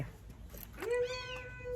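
A cat gives one clear, drawn-out meow close by, rising and then holding steady, with faint room noise around it and no talking.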